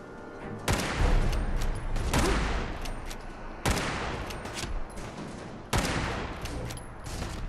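Three loud lever-action rifle shots in Fallout 4 ring out, spaced a few seconds apart, each a sharp close blast with a long rolling echo tail.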